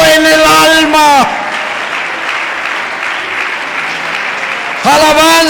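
A church congregation breaks into loud, steady applause between stretches of a man's impassioned singing-like preaching, the clapping alone in the middle.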